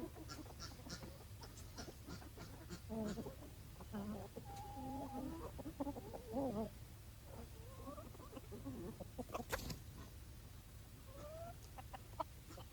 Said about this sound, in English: we've got lots of quacking and honking and roosters crowing all day long around here